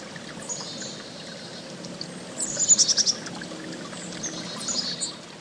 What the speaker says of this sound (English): The birds chirping nearby.